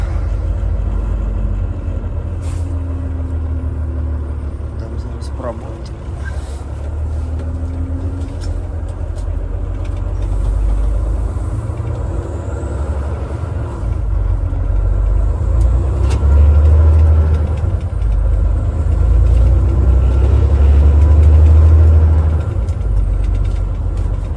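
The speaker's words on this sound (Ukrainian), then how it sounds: "Моторчик вже трохи нагрівся." A turbocharged car engine idles after a start, already slightly warmed up. It gives a steady, close, low rumble that grows a little louder in the later seconds, with no talking.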